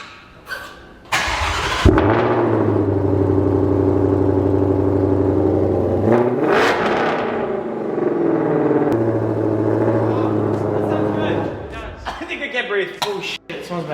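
A Mercedes E63 S AMG fires up with a sharp burst, then holds a steady deep idle rumble from the exhaust, with a blip of revs midway and a few clicks and thumps as it settles near the end.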